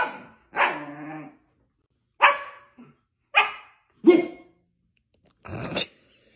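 A dog barks in a quiet room, six separate sharp barks spaced irregularly with pauses between, some with a growly low edge, close and clear with no talking.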